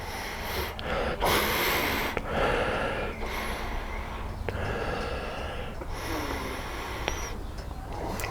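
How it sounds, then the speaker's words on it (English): Repeated close sniffs and snorting inhales at a glass of beer, several short bursts of breath drawn through the nose against a steady background hum. "Right, let's have a sniff."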